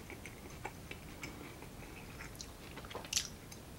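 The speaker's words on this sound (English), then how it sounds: "Real easy to eat, chew on." Soft, close chewing of a tender pork chop in creamy mushroom and onion sauce, with quiet wet mouth clicks and a sharper bite near the end.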